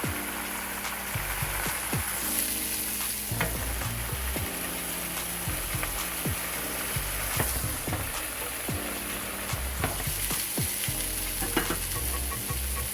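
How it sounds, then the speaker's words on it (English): Mushrooms sizzle steadily in hot oil in a pan while being pressed down, with a continuous frying hiss broken by scattered scrapes and knocks of a utensil; no voices. "I'm going to go ahead and try pressing these down so they can release some of their juices, because mushrooms are pretty liquidy"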